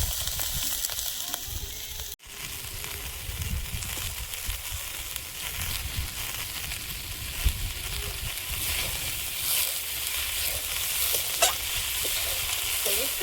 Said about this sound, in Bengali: আর এখন আমি যুক্তি ফুল আর আলুটা ভেজে নিচ্ছি